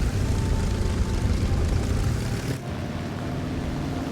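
A biplane's propeller engine drones loudly as it dives in the video game War Thunder, a dense continuous roar that eases slightly in pitch and level partway through.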